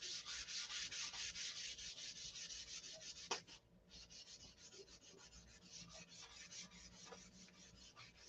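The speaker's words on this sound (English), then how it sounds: "I've sanded this down now with 800" 800-grit sandpaper rubs over self-etching primer in steady, rhythmic back-and-forth strokes, close and continuous apart from a brief pause midway, with no talking.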